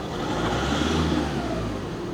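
A 1.6 TDI diesel engine revs with the accelerator pedal held fully down, a steady loud close drone that holds its pitch throughout.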